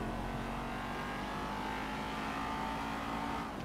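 Rapid GT sports car engine in GTA 5 Online, a steady, fairly quiet engine drone with a faint whine, running continuously without voices.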